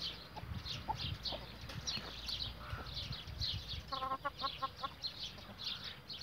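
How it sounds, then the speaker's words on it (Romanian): A Brahma rooster and hens cluck in short repeated bursts nearby, with farmyard noise and a faint voice in the background. "Și cocoșul ăsta turbat."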